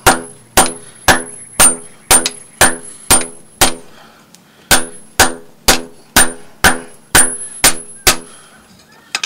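A hot steel knife blank hammered on an anvil to form a bevel, a close, loud series of ringing metallic blows in a steady rhythm, with one short pause midway.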